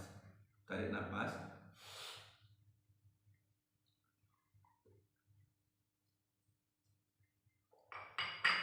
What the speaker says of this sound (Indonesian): ketika kita tahan napas, tarik napas